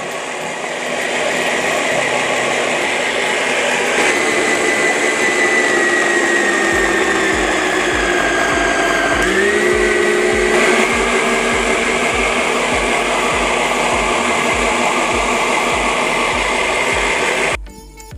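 A YoNanas healthy ice cream maker blends frozen fruit such as strawberry into a natural dessert, its motor whirring loudly and steadily for about seventeen seconds, the pitch dropping midway as the fruit loads it, then cutting off abruptly.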